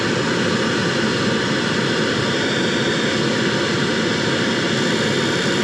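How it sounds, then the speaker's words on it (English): A Carrier rooftop heating unit's draft motor roars loudly and steadily up close, a dense broadband whoosh that never lets up and drowns out everything else. "Can't hardly hear over this loud freaking draft motor"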